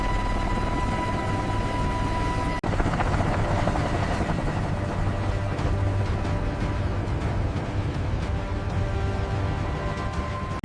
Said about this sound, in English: The rescue helicopters continued flying toward the coordinates.